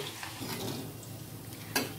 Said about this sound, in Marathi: आपण भाजीसाठी कांदा तळत आहोत